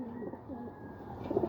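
A racing pigeon coos softly at a loft, low murmuring calls at moderate distance over quiet ambient background, with no talking.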